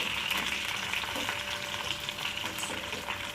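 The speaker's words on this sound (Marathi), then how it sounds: "कडकडत तेलामध्ये चांगलं त्याला तळून घ्यायचं" Hibiscus flowers frying in hot oil for a homemade hair oil give off a steady, close, crackling sizzle that continues without a break throughout.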